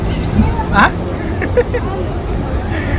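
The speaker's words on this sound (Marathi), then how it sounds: "ट्रॅफिक लागलेली" Street traffic in Mumbai rumbles near the Gateway of India, with engine noise and short horn-like blips mixed into a crowd hubbub, and voices chatter close by throughout.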